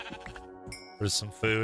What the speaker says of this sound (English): I might kill some sheep.